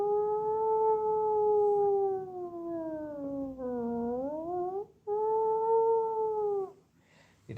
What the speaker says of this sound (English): I shall conclude this with a grin before the air raid sirens start, and they're eerie.